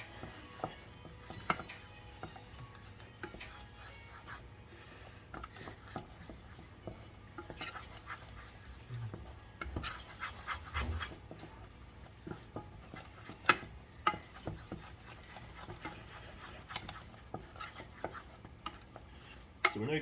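Milk being whisked into a roux in a pan for cheese sauce; quiet, irregular scraping and clinking of utensil against pan, steady and fairly faint, with no talking.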